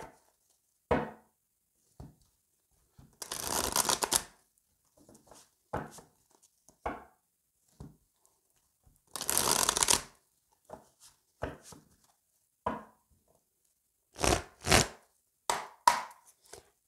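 Oracle cards being shuffled by hand, two longer riffling bursts among scattered soft taps and card handling sounds, close and fairly quiet with no speech.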